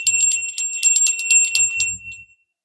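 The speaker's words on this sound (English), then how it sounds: "We'll ring the bell and then we'll go ahead and get started." A bell rung to open a tarot reading, its bright ringing strokes repeating rapidly for about two seconds before fading, with a low murmur underneath near the end.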